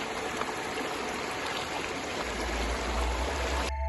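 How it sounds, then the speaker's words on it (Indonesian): A river on the Cisadon jungle trail rushes steadily as hikers wade across it, a dense continuous wash of flowing water with a deeper rumble building toward the end. "kita ngelewatin aliran sungai"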